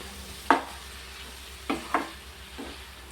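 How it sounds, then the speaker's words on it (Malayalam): Chopped spinach (palak) stirred in a frying pan, a few distinct scraping strokes over a faint low sizzle, close and quiet with no voices. "പാലക്കിട്ടതിന് ശേഷം നല്ലതുപോലെ ഇളക്കി യോജിപ്പിക്കുക"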